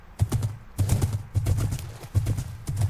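Horse hooves clip-clop in the Minecraft video game, a steady rhythmic run of close, moderately loud hoofbeats with no talking.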